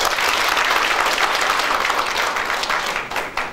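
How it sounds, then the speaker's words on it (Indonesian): A church congregation claps at a worship service: dense, steady applause that fills the room from start to finish, with no speech over it and a slight fade near the end. "Kasih tepuk tangan untuk Tuhan."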